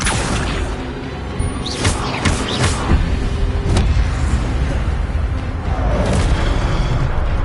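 The Incendio fire spell is cast in Hogwarts Legacy, with loud whooshing, roaring bursts of flame over constant dense game noise and rumbling, several surging blasts in quick succession.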